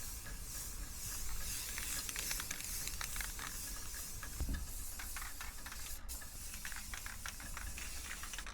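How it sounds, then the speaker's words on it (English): A spray paint can hisses steadily as black paint goes onto a gray water tank, in one continuous close spray of about eight seconds with only small changes in pressure. "So I'm going to paint this black"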